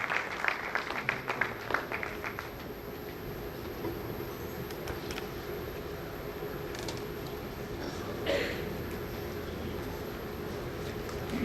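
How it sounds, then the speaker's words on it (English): Audience at a university award ceremony claps, a bright patter of hands at the start that settles into a fainter, steady hubbub in a large hall. "keep on giving your warm round of applause"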